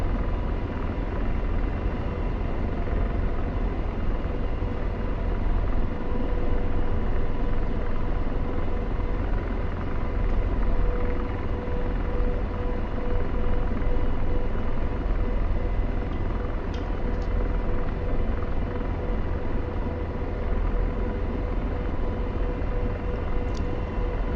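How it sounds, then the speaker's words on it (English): An AH-64 Apache helicopter landing in the DCS video game, rotor noise rumbling steadily and loudly throughout, a constant low drone with a few faint clicks near the end. "helicopter landing is not my forte"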